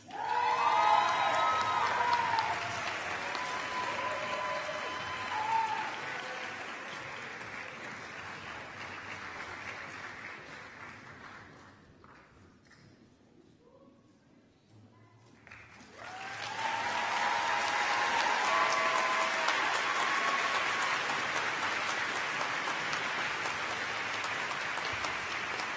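Audience applause at a university College of Natural Sciences commencement ceremony, a broad sustained clapping that fades to near quiet midway and then swells again into a second full round, steady and roomy throughout.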